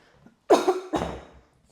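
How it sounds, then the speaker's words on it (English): Two quick coughs in close succession, near and fairly loud, with a brief gap between them and nothing else around. "coughing into the mic"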